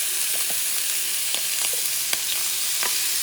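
Scallops fry in preheated extra virgin olive oil, giving off a steady close sizzle with small crackles and pops and no voices.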